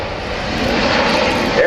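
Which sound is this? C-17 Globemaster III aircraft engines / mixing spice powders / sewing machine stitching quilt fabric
C-17 Globemaster III aircraft engines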